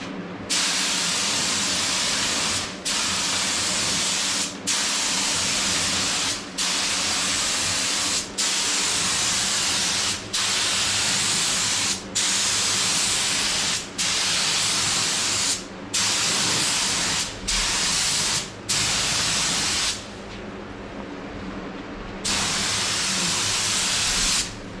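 Spray gun applying primer to Honda CRX Si parts, a loud close hiss in repeated bursts of one to two seconds, each cut by a brief pause, with one quieter stretch near the end.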